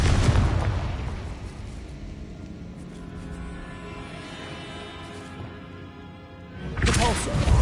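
Confringo blasting spell from Hogwarts Legacy, a loud burst at the start fading into a rumbling tail, then a second explosive blast near the end.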